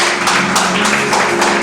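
Congregation members clap together in a church during a Spanish-language service, a loud, sustained rattle of overlapping hand claps with a few sharper individual claps poking through.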